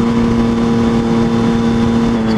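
A Volkswagen Polo car accelerates hard to overtake on a town street, its engine note rising as a steady loud drone with a strong low hum throughout.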